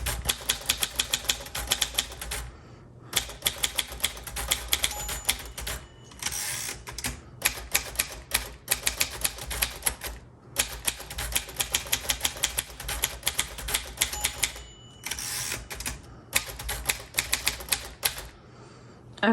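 Someone types steadily on a 1946 Royal Quiet Deluxe manual typewriter, a dense run of crisp key strikes with brief pauses and occasional bell dings, close and alone.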